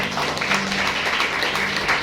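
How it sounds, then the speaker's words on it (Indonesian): Church congregation applauding during a year-end worship service, a brief, steady wash of clapping from many hands with no talk over it. "Yang setuju tepuk tangan bagi Allah kita."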